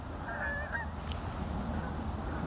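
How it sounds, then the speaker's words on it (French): Canada geese honk in the distance, a few scattered calls over a steady low rumble of background noise. "Les outardes ou les canards."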